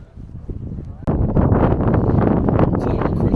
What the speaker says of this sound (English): So, it's windy up here.